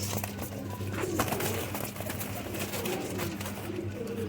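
Pigeon chicks offered for sale as high flyer pigeons, cooing softly over a steady low hum and background bustle, with nearby birds calling throughout.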